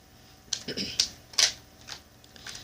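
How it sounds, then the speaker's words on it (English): Tarot cards being shuffled in a few short, crisp riffling bursts close up, with brief rustling pauses between them. "transition over to the cards and give them a good shuffle"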